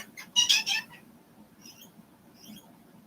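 A short burst of shrill squawks from pet birds indoors near the start, followed by a few fainter chirps over a low background hum.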